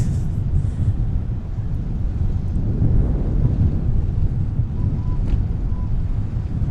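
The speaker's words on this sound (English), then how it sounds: "Such a sweet sound, the Rolls-Royce RB211." Rolls-Royce RB211 jet engine on an airliner at Minneapolis–Saint Paul airport, heard as a loud, steady, broadband low roar with wind-like rumble running without a break throughout.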